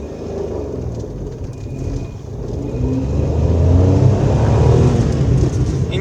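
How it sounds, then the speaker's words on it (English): A 2015 Maruti Suzuki Celerio engine pulls uphill in first gear, a steady low drone that grows louder and strains as the revs build, heard from inside the car. "Engine sound is decent."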